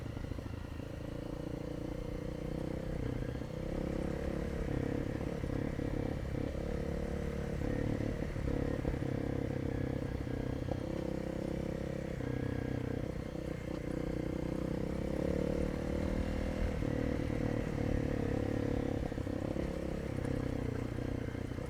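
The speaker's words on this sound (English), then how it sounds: "I'm just engine braking in third here" A motorcycle engine rumbles steadily at low revs while engine braking in third gear at about 20 mph, with rattling and clatter from a rough, rocky surface, close and continuous throughout.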